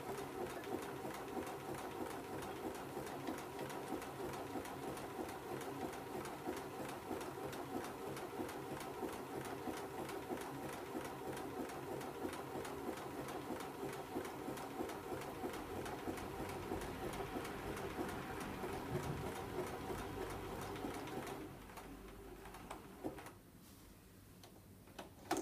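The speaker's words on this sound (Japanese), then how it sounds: "このままミシンが止まるまで待ちましょう。" A Bernina sewing machine stitches a buttonhole with a fast, steady mechanical ticking rhythm that runs without pause for over twenty seconds, then stops and falls quiet.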